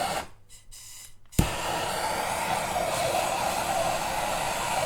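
Heat gun blowing on a 2-stroke exhaust pipe of a 2021 Beta 300 RR racing motorcycle, switching on after a brief quiet moment into a steady, even rushing blower hiss that holds close and constant.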